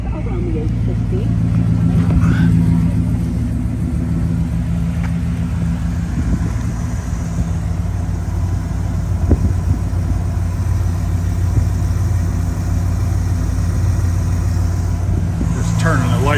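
A 1968 Chevrolet El Camino engine runs steadily at a low, even rumble close by, with a constant throaty drone throughout while someone talks over it.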